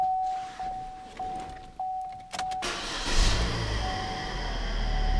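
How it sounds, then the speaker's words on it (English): Chevrolet Sonic small car starting up: a few chimes and brief starter cranking, then the engine catches and settles into a steady idle heard from inside the cabin. "Car fires right up."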